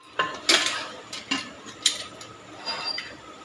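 Metal clinks and clatter of a lid set on a pot of potato and aubergine curry with bori, several sharp close knocks spread across a few seconds, no talk.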